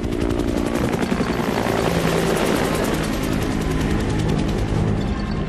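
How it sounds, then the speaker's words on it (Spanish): A Stallion helicopter flies close and loud, its rotor thumping in a steady rapid pulse over a dense roar that holds throughout with no voices. "lo reengancha mediante un grueso cable de sujeción al helicóptero Stallion, que se encamina de inmediato hacia espacio aéreo estadounidense"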